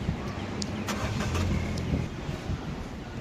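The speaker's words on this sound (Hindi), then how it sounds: "हैंड ब्रेक को नीचे करके हम गाड़ी को स्टार्ट करते हैं।" A car engine starts after the handbrake is released, cranking and catching into a steady mid-pitched running rumble nearby, with a few light mechanical clicks on top.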